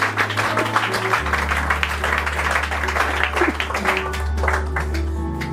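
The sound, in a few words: congregation applause in church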